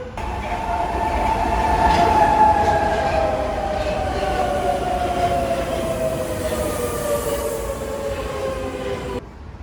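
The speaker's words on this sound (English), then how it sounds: "a passageway going between the metro tracks, which can lead to some cool shots of metros passing by" Brussels metro train passing through a station beside a passageway between the tracks, a steady loud rumble and rising-falling whine lasting throughout, alone without voices.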